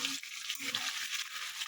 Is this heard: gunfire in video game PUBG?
no